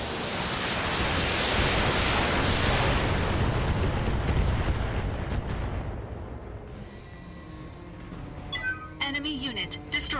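Mech weapons firing and explosions in the BattleTech video game form a loud, dense wall of rumbling blasts for several seconds, then thin out into scattered bursts and synthetic beeping tones near the end.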